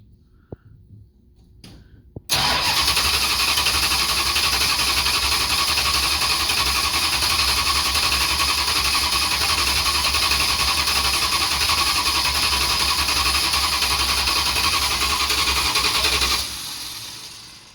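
A 1973 Dodge Charger engine with fuel problems starts abruptly and runs loud and steady for about fourteen seconds, then cuts out and fades, with an unsteady, rough edge to its roar.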